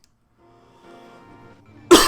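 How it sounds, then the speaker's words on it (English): A single sharp cough bursts close into a microphone at the very end, loud and sudden, after a quiet stretch of faint background game music. "I don't mean to keep coughing into the mic"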